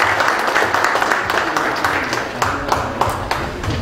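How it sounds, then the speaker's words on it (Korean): An audience claps steadily during a school football league draw ceremony, a dense, continuous patter of applause with occasional sharper claps, filling the hall at moderate loudness. "박수 부탁드립니다."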